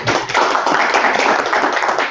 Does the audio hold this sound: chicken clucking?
no